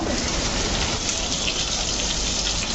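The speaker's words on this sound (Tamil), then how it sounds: "கொஞ்சம் கருவேப்பிலை போட்டுட்டு வதக்கிக்கலாம்." Green chili and curry leaves fry with prawns in a hot pan, giving a dense, steady sizzle close by that hisses without a break.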